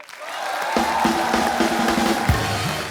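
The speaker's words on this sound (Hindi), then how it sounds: "जोरदार तालियां पहले" A studio audience at a TV comedy show claps and cheers in a dense, sustained wash, with a bright musical sting playing over it.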